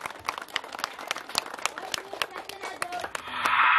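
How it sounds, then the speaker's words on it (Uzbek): Applause from a crowd at a gathering honouring mothers, scattered claps at first and then building into a denser, louder round by the end, with a voice speaking over it. "bitta guldirak qarsaklarni qaslatib qo'yasizlar"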